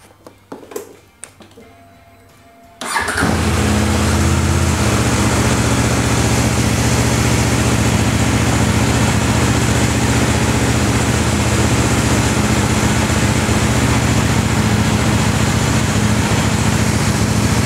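A few faint knocks, then an 800NK motorcycle engine starts and settles into a loud, steady idle that runs on without change.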